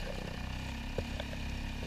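A Suzuki DF2.5 outboard motor mounted on a Hobie Outback kayak runs steadily at speed, a continuous low engine drone with a droning hum throughout, close and moderately loud.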